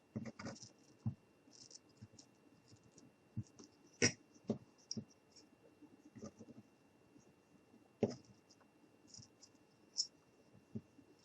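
An X-Acto knife cuts close by, giving faint, scattered scratches and small scraping clicks at an uneven pace in a quiet room.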